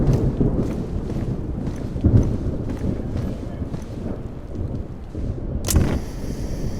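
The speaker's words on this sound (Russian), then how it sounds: "За окном льет ливень" Heavy rain pouring steadily with a dull rumble of thunder, a dense wash of noise under low booming swells and one sharp crack near the end.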